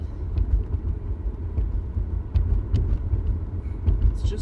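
Steady low cabin rumble from a 1983 VW Quantum GL5 wagon cruising at about 40 mph, heard from inside, with a continuous engine and road drone and faint ticks over it.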